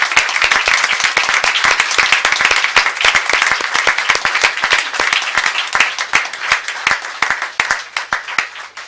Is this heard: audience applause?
yes